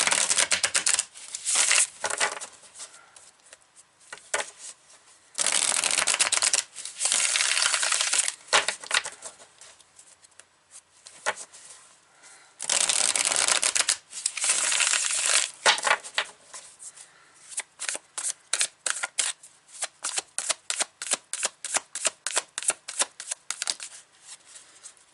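Tarot cards are shuffled by hand in close, quiet bursts of riffling and sliding, broken by short pauses, ending in a quick run of crisp, evenly spaced card flicks.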